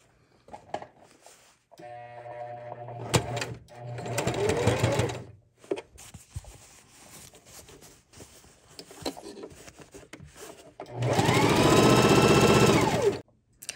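A sewing machine stitches a Sylveon cosplay costume skirt in several separate bursts of whirring, the longest and loudest near the end, with quiet handling noises between runs.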